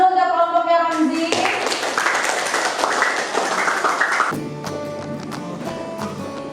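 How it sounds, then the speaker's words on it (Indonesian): Classmates clap for a student group in a school classroom, a burst of applause that starts partway through and runs over a sustained tone before trailing into quieter taps. "Kita kasih tepuk tangan dulu untuk kelompoknya Romzi"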